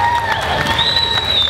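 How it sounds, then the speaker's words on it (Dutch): An audience applauds and cheers for a woman named Marieta at a Pink Sunday launch event, a steady close wash of clapping and crowd noise lasting the whole short moment without pause. "Applaus voor Marieta!"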